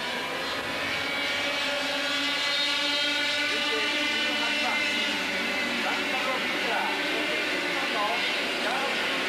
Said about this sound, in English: Very fast through these S's in these Formula Super A karts, 28 horsepower